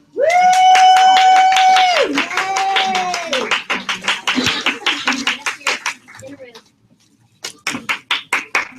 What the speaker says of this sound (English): I'm still clapping.